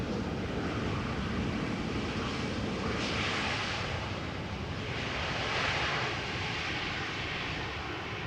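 An airliner landing at Amsterdam Schiphol airport, a broad, continuous engine roar heard from a distance, swelling slightly in two waves as the aircraft rolls along with little reverse thrust, steady and unbroken.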